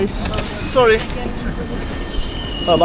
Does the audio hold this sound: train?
yes